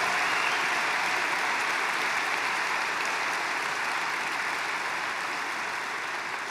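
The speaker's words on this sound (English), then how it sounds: "Let's give them a really special hand." An audience gives a special hand to partners from the Qatar Army and Armed Forces, a steady, even wash of applause that stays consistent throughout without voices.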